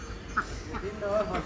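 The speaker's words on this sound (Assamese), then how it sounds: "আৰু এইফালে কি ধুনীয়াকৈ হাঁহবিলাকে মাকৈ খাবলৈ ইয়াতে আহি গৈছে।" Ducks come to eat maize, giving a few short scattered quacks under a person's talk in an outdoor farmyard setting.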